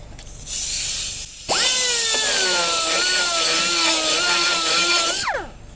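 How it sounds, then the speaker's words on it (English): A pneumatic air tool spins up on a 1951 Hudson Hornet, its hiss giving way to a sustained, wavering high whine for several seconds before winding down abruptly. "Take my air tool."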